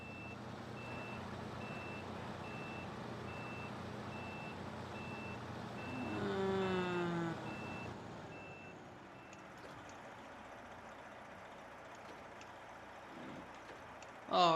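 A radar truck reversing in the SnowRunner video game, giving a steady series of evenly spaced reversing beeps over a low diesel engine rumble that briefly swells midway.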